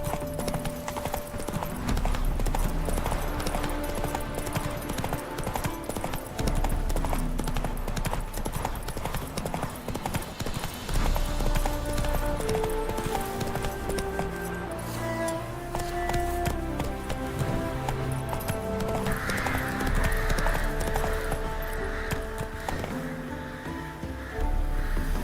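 Roach, the horse in The Witcher 3: Wild Hunt, gallops on and on, a fast continuous clatter of hooves laid over loud orchestral game music for the whole stretch.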